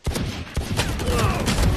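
Rapid pistol gunfire from the Valorant video game, a burst of sharp repeated shots spread across under two seconds, loud and close with dense in-game noise around them.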